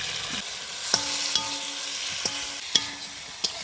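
Boiled potato and fried fish go into sizzling masala in a pan, a steady close frying hiss broken by several sharp clinks of a spoon against metal, with no voices.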